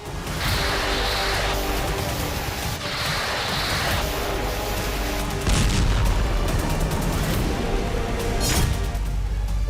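A loud, sustained roar of blasts and rumbling booms, with a sharper burst midway, dense and continuous throughout.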